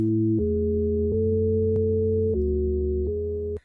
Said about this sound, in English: The sine wave is one of the fundamental waveforms, so get comfortable with it.